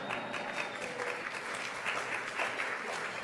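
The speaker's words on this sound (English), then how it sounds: "Just like you, the audience clapped a little bit." An audience at a talk on finance gives a light, steady round of applause, a soft even patter of many hands clapping at moderate distance, without any voices over it.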